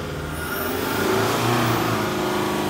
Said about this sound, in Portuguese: Nosso auxiliar técnico ali vai dar uma acelerada nela.